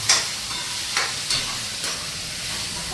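Tempering sizzle from a pan of cauliflower and tomato curry, a steady hiss with a few soft stirring bursts, close and alone.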